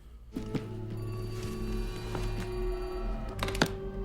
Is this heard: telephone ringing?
yes